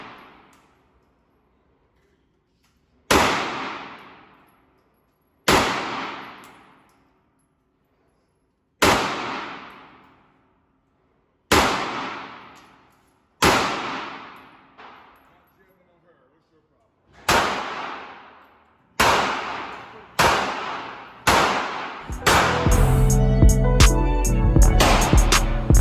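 Gunshots at a shooting range fired at targets: about a dozen loud, sharp single reports spaced a few seconds apart, each with a decaying ring, speeding up toward the end into a dense burst of noise.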